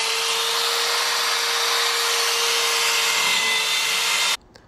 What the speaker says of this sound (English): As you're drilling it in, you'll feel the drill bit grabbing into the wood